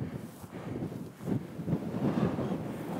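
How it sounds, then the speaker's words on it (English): Gusty wind rumbles against the microphone in uneven low bursts, rising and falling with no other sounds standing out. "It's windy."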